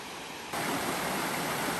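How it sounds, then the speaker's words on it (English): Steady rushing water from a flowing stream on the Appalachian Trail in Vermont, a broad continuous wash of sound that swells slightly louder after the first half second. "there has been a constant flow of streams. Something about the sound of the water."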